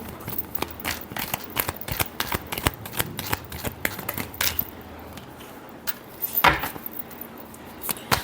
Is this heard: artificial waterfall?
no